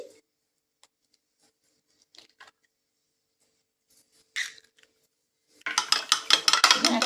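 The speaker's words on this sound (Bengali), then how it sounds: "ডিমটাকে কিন্তু আমি এই বাটি একটা নিয়ে নিয়েছি বাটির মধ্যে কিন্তু ফেটিয়ে নিচ্ছি" An egg being beaten in a bowl for a brinjal fry recipe, heard as a rapid run of close, clinking taps of utensil against the bowl after a few scattered small knocks and near-silence.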